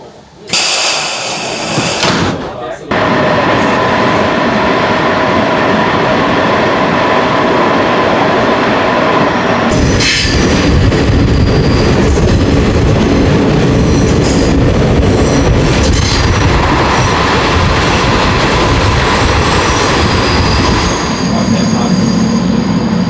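A veteran train runs on a Danish railway toward Ribe via Skjern, approaching Varde station: loud, continuous rumbling and clattering wheels with shrill metallic squeals, a short quieter stretch at the start, and voices faintly under the noise.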